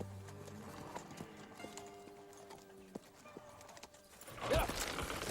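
A horse clip-clops in a steady hoof rhythm at a cattle ranch, with a low hum beneath and a brief louder burst near the end.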